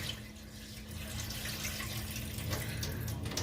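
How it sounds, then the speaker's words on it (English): Tap water runs on high over rice being rinsed by hand in a kitchen sink, a steady close rushing splash that continues unbroken for the whole stretch with no talking. "So I'll make sure I put the water on high just to penetrate each grain."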